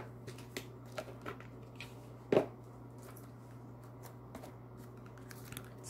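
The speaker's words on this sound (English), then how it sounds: "Go ahead and get a quick shuffle." Tarot cards are shuffled with soft riffling and flicking sounds, one sharper slap in the middle, close up and otherwise quiet.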